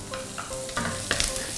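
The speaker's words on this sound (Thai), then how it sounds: "ผัดให้หอมครับแต่สียังไม่เปลี่ยนนะครับ" Minced garlic and spring onion stir-fried in hot sesame oil in a wok, with a steady close sizzle and scraping stirring strokes over a couple of seconds, no talk.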